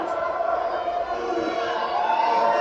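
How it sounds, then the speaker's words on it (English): A wrestling crowd at a holiday special show in Fayetteville cheers and shouts in a steady, dense roar that fills the whole moment, with no clear breaks. "It sounds like the crowd here in Fayetteville tonight, they're trying to keep Tony Ray pumped up."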